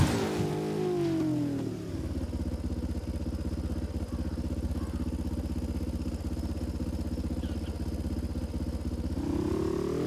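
A motorcycle engine in the video game Ghost Recon Wildlands revs up briefly, then settles into a steady, loud, rumbling drone that holds for several seconds before rising again at the end; no talk.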